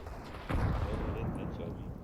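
A grenade goes off in a video game as a single heavy boom with a deep rumble that slowly fades under low background noise.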